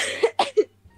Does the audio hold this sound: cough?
yes